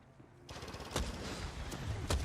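Gunfire in the battle royale game Apex Legends, a rapid burst of shots followed by a few sharp louder cracks, close and without talk.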